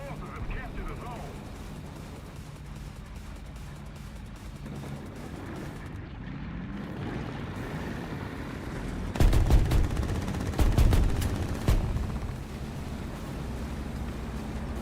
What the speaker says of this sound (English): Machine gun ready for action.